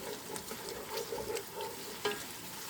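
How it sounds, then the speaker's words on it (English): Tomato paste frying and sizzling in a pot for jollof rice, a steady close crackle with soft stirring scrapes and one sharper pop near the end. "you're going to allow the paste to fry until it got a darker color"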